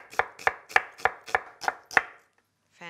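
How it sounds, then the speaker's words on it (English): A knife chops a red onion on a board in seven crisp, evenly spaced strokes, close and loud, followed by a brief pause and a faint trailing sound. "I'm using a red onion just for a pop of color, and I'll finely slice it"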